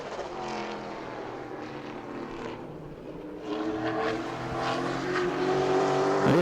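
A Pro Late Model race car in qualifying at New Smyrna, its engine droning steadily and then swelling louder as it nears, with a rising tone near the end; no talk.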